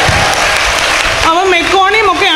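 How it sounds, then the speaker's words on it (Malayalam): A church congregation bursts into a short round of hand clapping, dense and close. After about a second the clapping gives way to a voice speaking or singing. "കൈയടിച്ച് കർത്താവിന് മാത്രം കൊടുത്തേ."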